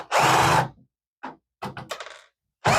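A power drill backs screws out of a small computer fan inside an MSI computer housed in a large KIP 3000 printer. It makes one long whir, then several short, close, loud bursts separated by silence.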